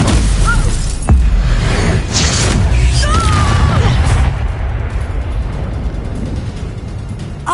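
Confringo fire spell in Hogwarts Legacy on PlayStation 5 bursts with a heavy, loud boom and a sharp crack, then a rumbling roar that thins out into a softer hiss.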